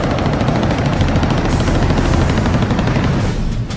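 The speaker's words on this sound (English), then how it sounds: "Now, Giora Rome, the junior officer in the flight, has spotted two MiG-17s firing on Israeli troops." Aircraft cannon fire from MiG-17 jet fighters strafing ground troops, a loud, dense, continuous rattle of gunfire with engine roar, sustained without pause and no voices.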